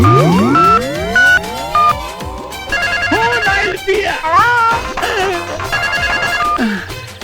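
A telephone rings in a film scene, its bell tone repeating over a loud, busy background score.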